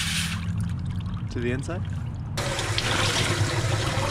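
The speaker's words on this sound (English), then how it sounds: "Here to rinse out another tie-dye." Running water rinses a freshly dyed pastel rainbow spiral tie-dye T-shirt, first as a trickle and then as a fuller, steady gush from a tap, with a brief spoken remark partway through.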